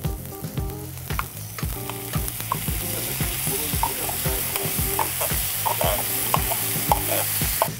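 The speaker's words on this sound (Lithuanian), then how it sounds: "Suberėme kukurūzus į keptuvę ir apkepame kartu su morkomis, svogūnais, česnaku ir imbieru" Sweet corn sizzling in a frying pan alongside carrots, onions, garlic and ginger, with steady frying crackle and repeated stirring scrapes in an irregular rhythm throughout, close and fairly loud, no talking.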